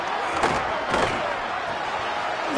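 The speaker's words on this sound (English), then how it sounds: "how nice is it to have the home crowd going absolutely bananas" A home crowd at a college football game roars in a dense, continuous wall of cheering and yelling, loud and sustained with a couple of sharper bursts.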